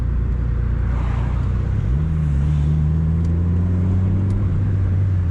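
A car with a Toyota 1JZ engine hums steadily nearby on a street in Japan, its low drone rising in pitch as it revs up and holds, with no talking.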